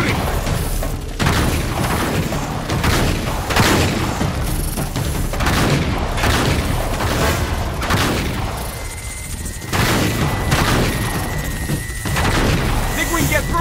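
Repeated gunfire in the video game Uncharted 3, dense bursts of shots and booming impacts running nearly continuously through a firefight, with voices shouting over the action.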